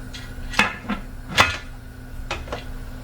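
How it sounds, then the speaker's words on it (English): A metal lid set onto a pressure canner packed with seven quart jars of tomato-based sloppy joe sauce gives several close, sharp clanks and clatters, two louder strikes then lighter taps, with no talking. "I'm going to put the lid on."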